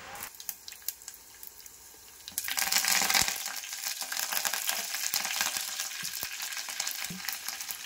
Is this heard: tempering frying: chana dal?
yes